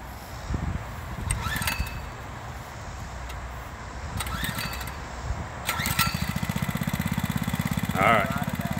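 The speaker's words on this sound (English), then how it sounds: "start that bike" A Mega Moto 105 minibike engine is pulled over a few times and then catches, settling into a rapid, loud, steady putter. Outdoor background noise and brief voices are mixed in.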